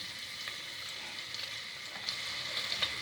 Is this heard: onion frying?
yes